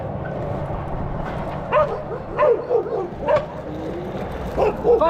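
Loose dogs bark by a roadside at dusk in cold weather, several yips and barks spread out over a low rumble, moderately close.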